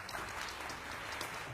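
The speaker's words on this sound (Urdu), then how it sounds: "آپ کی بہت ساری تالیوں میں" A studio audience at a television morning show claps in a faint, even patter of many hands that runs the whole time without a break.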